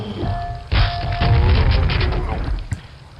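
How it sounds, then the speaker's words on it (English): Grenade blasts in the video game Quake, Necropolis level: a heavy boom hits abruptly and rumbles on for nearly two seconds, with a narrator talking over it and a brief sharp knock near the end. "go around and chuck a couple of grenades down"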